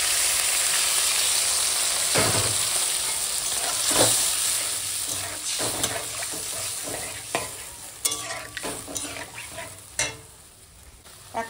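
Water goes into a hot pan of ground mustard and green chilli paste, starting with a loud, steady hiss that gradually fades, followed by scattered spoon scrapes and clinks while the mixture is stirred.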